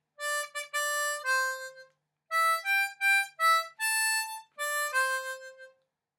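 Harmonica plays a line of a Christmas song, clear sustained reedy notes in short phrases with a brief pause midway, close and solo with no talking.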